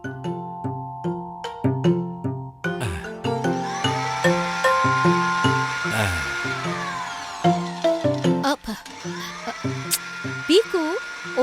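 A cartoon mixer grinder whirs in rising and falling electric whines, layered with steady rhythmic musical tones, moderately loud and close.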